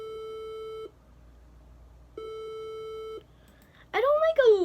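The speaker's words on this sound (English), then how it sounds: "I don't like alarms which is like 8-bit like this one." Swedish emergency alert alarm with 8-bit style beeping: two long, steady, electronic tones separated by a pause, followed by a person talking.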